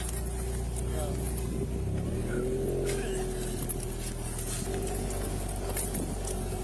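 A car with clutch trouble that will not go into first gear idles with a steady low hum, with a brief rise in pitch partway through. Voices talk nearby over it.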